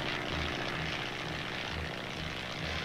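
Army light aircraft in flight, a steady propeller-engine drone with a low pulsing throb, continuous and fairly close, with no voices.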